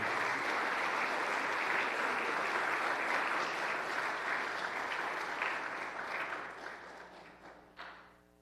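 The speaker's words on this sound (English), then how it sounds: "Please give an applause for our altar servers" Warm audience applause at a school awards ceremony for altar servers, dense clapping that holds steady, then thins and fades toward the end with a few last claps.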